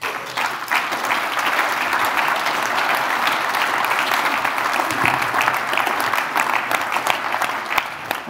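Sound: audience applause

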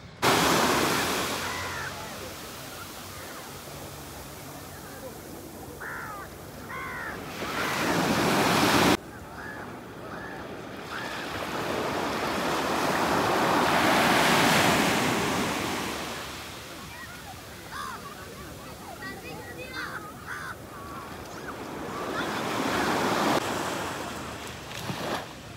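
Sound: sea waves on the beach

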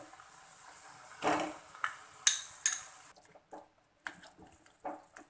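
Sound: potatoes being added to the pan

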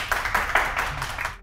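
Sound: audience applause for the guest

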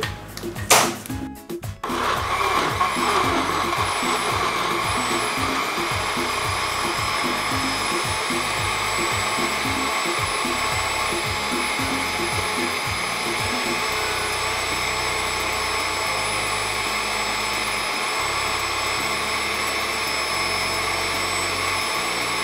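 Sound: blender blending ocopa sauce with oil

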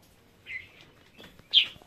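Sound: pet birds chirping in their cage

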